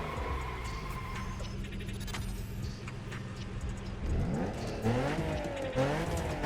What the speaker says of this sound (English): And I haven't tried the V6 one, so let's try the V6.